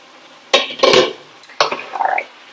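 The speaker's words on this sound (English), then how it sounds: "We're going to take the lid off and see if this is ready." A lid lifted off a cooking pot in a home kitchen gives a few bright metallic clanks and clinks, close and fairly loud, in short bursts.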